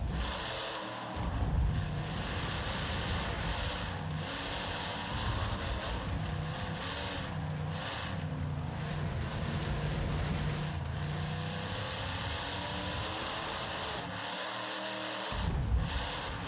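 A monster truck racing in the Monster Truck Championship video game, a continuous rough engine roar with wind-like rushing noise, surging and briefly dropping out near the start and again toward the end, no voices.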